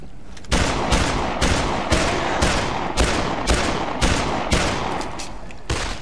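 Rapid pistol gunfire in the video game Dead Island: a steady string of loud, close shots, each a sharp crack with a short tail, repeating roughly every half second.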